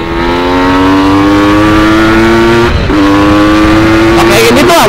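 A Kawasaki Ninja motorcycle fitted with a TM 32 carburetor revs loudly and close, its engine tone climbing steadily, dipping briefly, then climbing again while being ridden.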